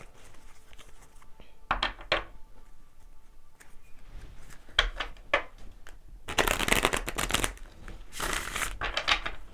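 Tarot cards being shuffled close by, with quiet riffles early on building to two loud, dense bursts of card shuffling toward the end.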